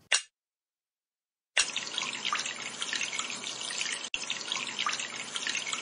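Shower water runs in a doll makeover mobile game: a brief splash, a pause of silence, then a steady hissing spray that continues with a short break near the end.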